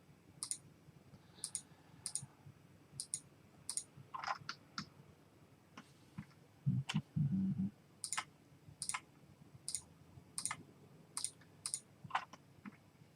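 Sharp mouse clicks from a computer used while building a site mesh in Archicad, arriving singly and in quick pairs at an irregular pace, close and fairly quiet, with a brief low thump partway through and no talking.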